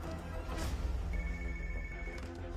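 A telephone rings faintly in an office at low level, a thin steady ringing tone lasting about a second over a murky background of film sound.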